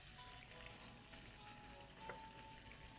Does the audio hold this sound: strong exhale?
no